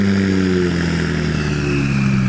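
A turbocharged car engine drones loudly and steadily at close range, its tone holding with slight shifts throughout and no voices over it.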